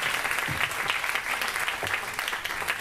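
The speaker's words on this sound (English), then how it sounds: "Let's give her a round of applause" A round of applause from an audience after a film screening, steady dense clapping throughout at moderate level with no speech over it.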